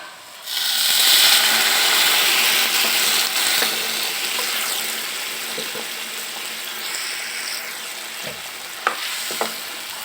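Water poured into a pan of fish curry with half-fried fish sets off a loud sizzle and hiss that gradually settles into a steady bubbling simmer, with a few clinks of a utensil near the end.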